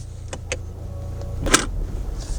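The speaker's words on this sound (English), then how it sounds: "So at lower speeds, it sounds like the engine note is a little bit lower" A Honda Civic Type R with a Mishimoto intake drives at low speed, heard from inside the cabin as a low, steady engine drone with a few faint clicks over it.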